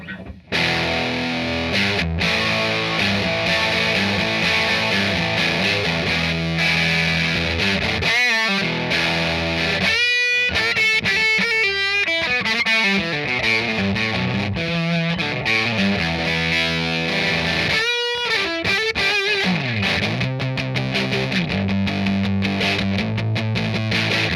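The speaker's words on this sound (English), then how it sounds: "this is as distorted as the amp will get" Loud, heavily distorted electric guitar chords ring through an amp at maximum distortion, sustained and buzzing with fuzzy white noise, strummed continuously with brief pauses.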